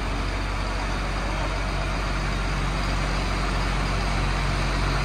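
A Fendt 936 tractor strains hard in two-wheel drive during a tractor pull, its engine giving a loud, steady, unbroken roar throughout.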